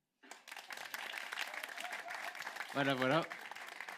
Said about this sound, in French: j'aimerais qu'on prenne juste 2 secondes pour l'applaudir